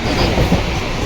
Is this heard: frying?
no